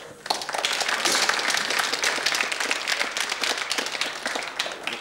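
An audience applauds at a televised literary talk show, steady dense clapping filling the room from start to finish at a fairly even level.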